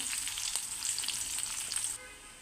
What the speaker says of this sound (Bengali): এখন পেঁয়াজ আর তেজপাতা দিয়ে দিলাম, এটাকে ভালোভাবে একটু ভেজে নেব।